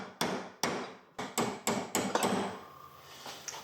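Sharp metallic hammer blows strike a seized rear brake caliper during a full restoration. Seven or eight loud, close impacts come at an uneven pace, each ringing briefly, and the last blow is followed by quieter handling noise.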